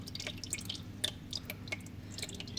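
A water-oil emulsion drips from the engine of a new HISUN Tactic quad bike, with faint, irregular patters close by. Low background hum persists throughout.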